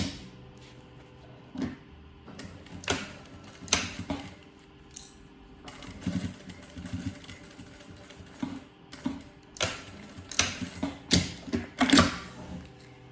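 A sewing machine stitches a zipper onto a fabric pencil case, with bursts of rapid mechanical clatter and clicking separated by quieter pauses and handling noises, close and fairly loud, the runs growing denser toward the end.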